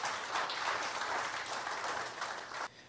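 Loud, sustained applause from a church congregation praising the Lord, dense clapping running nearly three seconds before dropping off sharply at the end.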